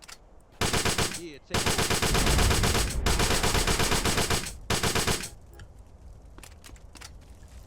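Rapid automatic rifle fire from a 30-round weapon mod in GTA San Andreas comes in long, loud, continuous bursts with brief gaps between them, followed by quieter game ambience and a short spoken line.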